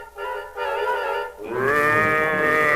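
A voice imitates a sheep in a children's story, giving a long, wavering bleat that swells into a sustained, quavering cry, close and clear with no other sound around it.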